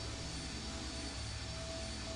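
A ship's engine running in the video game I Have No Mouth, and I Must Scream, a steady, even drone that holds level throughout with no speech.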